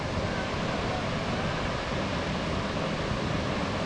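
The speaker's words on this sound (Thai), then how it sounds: "น้ำตกห้วยหลวงนะครับ ผมจะเป็นน้ำตกที่ไหลลงมา ตามหน้าผานะครับ" Huai Luang waterfall in Phu Jong-Na Yoi National Park, Ubon Ratchathani, pouring down a steep cliff face: a constant, dense roar of falling water, unbroken and even from start to finish.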